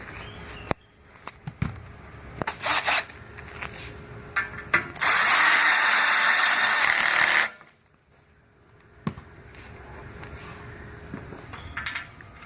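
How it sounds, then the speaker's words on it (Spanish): Power drill with a Torx bit driving M6 Torx T30 screws into a cabinet frame, a loud sustained whirring burst of a few seconds amid clicks, taps and handling noises, close and without talk. "Para el apriete de los tornillos auxiliares del frame es necesario utilizar el taladro con la punta Torx."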